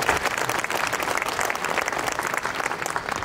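Steady applause from a seated audience at a regional government office opening ceremony, dense and even throughout with no talk over it.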